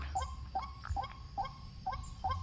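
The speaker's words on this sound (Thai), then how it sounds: "นกเป็ดครับ" Repeated honking wild duck calls, about six evenly spaced quacks in a steady rhythm, clear and fairly close over a low outdoor rumble during a hunt.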